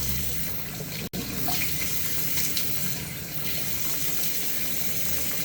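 Tap water runs steadily into a sink while a tomato face mask is rinsed off, a continuous close splashing wash with one brief sharp knock early on.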